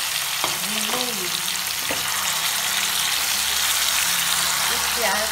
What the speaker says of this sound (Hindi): अब मैं ये इसमें मैरिनेट चिकन डाल रही हूँ और इसे मैं अच्छी तरह से भूनूंगी।